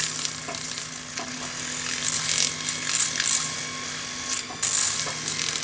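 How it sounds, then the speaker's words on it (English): Fine 400-grit paper on a split mandrel runs around the edge of a metal pendant, giving a continuous close sizzling hiss that swells and eases in steady waves, with faint grinding underneath. "I'm using 400 grade paper on a split mandrel, and I'm just going to go around the edge"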